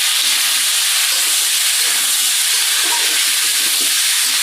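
Pointed gourd (potol) frying in a pan on a gas stove in a home kitchen, a loud, steady sizzling hiss with faint crackles, no voices.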